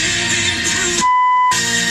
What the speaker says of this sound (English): Let it beep.